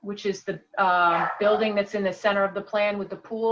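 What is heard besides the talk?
No everyday noises stand out.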